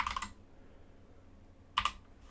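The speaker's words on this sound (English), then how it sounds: "just bear with me while I just type this in" Two short bursts of computer keyboard typing, close and soft, a quick flurry at the start and another after a quiet gap.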